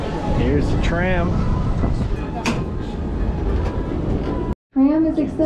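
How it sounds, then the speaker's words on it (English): A Las Vegas Excalibur tram accelerates, its motor whine rising in pitch under a steady rumbling roar of the ride, while a voice speaks over it and the sound briefly cuts out. "Tram is accelerating."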